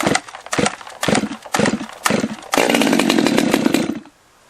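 A top-handle chainsaw started from cold: four or five sharp pull-cord tugs in quick succession, then the engine catches and runs at a loud, raspy idle for about a second and a half before cutting out, very close.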